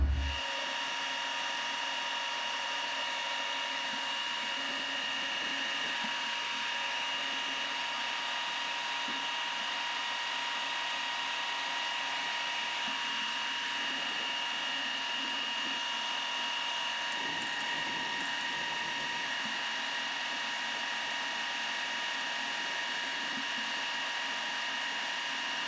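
A power drill runs continuously at steady speed while a 13 mm hole is drilled and tapped in a metal lathe spider for M6 set screws, a moderate whine with slight shifts in pitch and no talk.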